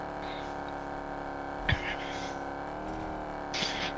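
A car engine in a video game drones steadily at an even pitch, with brief louder bursts of revving and a faint hiss over the constant hum.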